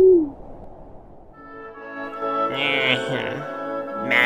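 A brief, low owl hoot opens, then a voice begins speaking and carries on to the end.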